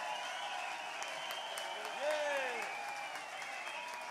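Festival audience applauds a singer, soft distant clapping under a sustained musical tone and a brief voice, fairly faint throughout.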